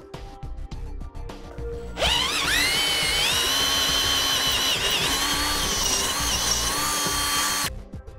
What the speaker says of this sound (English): I'll go ahead and remove my clamp so I can drill out the bottom one